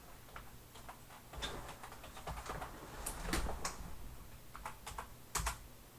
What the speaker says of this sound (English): I think I was typing too fast the first few times.